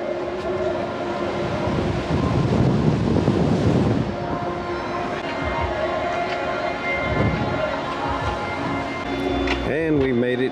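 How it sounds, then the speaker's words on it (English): Strong wind buffets the open deck of the Carnival Mardi Gras cruise ship, a loud continuous roar and rumble with gusty swells, alongside tonal hums from the ship. "And as you hear, it's pretty windy."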